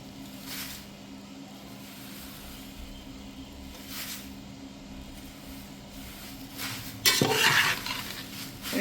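Thin flattened rice poha stirred and tossed in a pan for Diwali chivda, a steady soft scraping and rustling with a hum underneath, then a louder metallic scrape of the spoon against the pan near the end.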